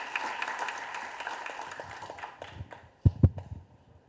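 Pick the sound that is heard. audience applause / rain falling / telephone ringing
audience applause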